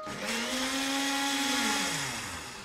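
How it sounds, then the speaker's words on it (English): A blender whirs loudly and steadily, mixing glucose and tomato puree for a sorbet, its motor pitch rising then sagging slightly as the blades churn, with no one speaking. "Just need to blend this really well together now, so make sure that the glucose and the tomato puree are well mixed."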